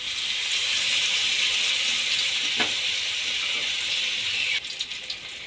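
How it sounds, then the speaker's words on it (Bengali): Gram-flour-battered pieces sizzle in hot mustard oil with a steady, bright hiss that holds throughout, briefly crackling louder as more batter hits the oil near the end. "এবার এটাকে আমি বেসনের মধ্যে ডুবিয়ে তেলে ছেড়ে দেব।"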